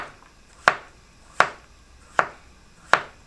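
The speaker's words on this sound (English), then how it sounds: "I'm just going to chop up this last one." Four sharp knife strikes against a cutting board, evenly spaced and crisp, each a quick chop through a firm potato in an otherwise quiet room.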